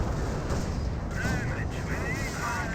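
Artillery barrage in Company of Heroes, a World War II real-time strategy game, with booming impacts rolling continuously under dense battlefield noise and a commentator's voice talking over it.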